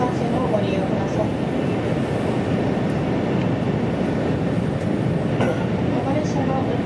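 A JR East Shinkansen, the Yamabiko 124 bound for Tokyo, runs at speed, heard from inside the car as a steady, loud rumbling rail roar with faint rhythmic clatter, no talk.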